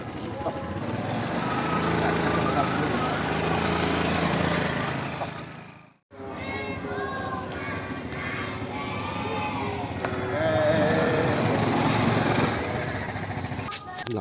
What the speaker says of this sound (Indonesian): Oke, kita jalankan mesinnya, kita mulai coba jalan.